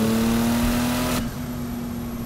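A 1,000 hp Porsche 911 Turbo accelerating hard, its engine a loud, steady droning roar from inside the car that drops off abruptly partway through, leaving a lower hum.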